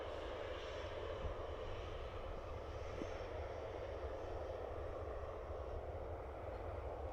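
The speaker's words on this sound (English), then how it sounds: "Oh look, it's a Ryanair." A Ryanair airliner at Dublin Airport gives a steady, distant engine rumble with a broad jet roar, constant and unbroken throughout.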